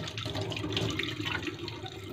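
Hot water runs steadily from a tap during fridge cleaning, a continuous close splashing and gurgling stream with no talk.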